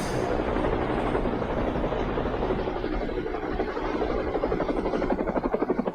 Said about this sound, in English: Helicopter noise.